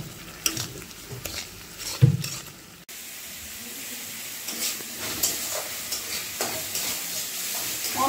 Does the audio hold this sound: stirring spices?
yes